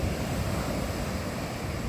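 Sea surf on a beach under heavy rain clouds roars steadily with a broad, rushing wash of waves and some wind buffeting, continuous and fairly close.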